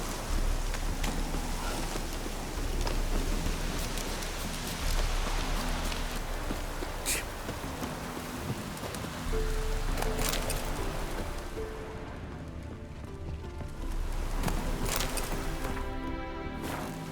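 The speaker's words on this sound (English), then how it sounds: "Looks like rain." Steady rain in The Witcher 3 patters and hisses on surfaces, with occasional sharper drips standing out from the constant wash.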